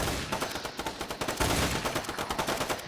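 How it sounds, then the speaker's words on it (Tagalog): Rapid automatic gunfire from a video game firefight, dense bursts of shots repeating steadily and loudly throughout with no talk. "pinuputokan niyo yung baril"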